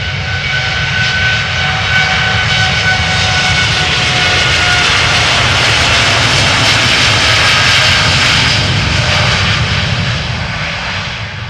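American Airlines flight 203, an eight-year-old Boeing 787-8 Dreamliner at Amsterdam Schiphol, roars past with loud jet engines that swell to a peak and then slowly ease off, with no talking.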